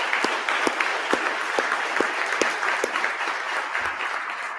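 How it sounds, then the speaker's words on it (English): An audience applauds muralist Mandy Caskey with steady, dense clapping, punctuated by sharper individual claps, sustained and fairly close throughout. "let's give her a round of applause"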